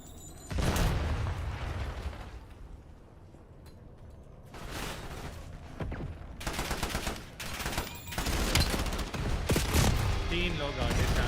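Bursts of gunfire and loud booms from a Call of Duty Black Ops 7 multiplayer match come in waves, some near and harsh, others quieter, and people talk over the shooting.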